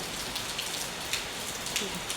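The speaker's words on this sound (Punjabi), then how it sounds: "ਡੇਢ ਘੰਟੇ ਦਾ ਲਗਾਤਾਰ ਜਿਹੜਾ ਮੀਂਹ ਪੈ ਰਿਹਾ ਵਾ" Steady downpour of heavy rain falling continuously for about an hour and a half, hissing on surfaces, with scattered distinct drops tapping nearby, continuous and fairly loud.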